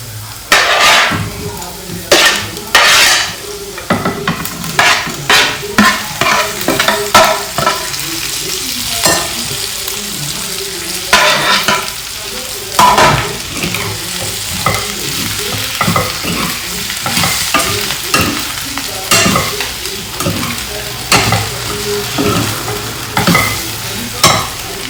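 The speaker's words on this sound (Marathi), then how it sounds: "आणि मस्त फ्राय करून घ्यायचं, म्हणजे मिक्स करून घ्यायचं." Spices frying in a pan with potatoes and okra to follow, stirred steadily with repeated scraping strokes over a continuous close sizzle, loud and rhythmic with no talking.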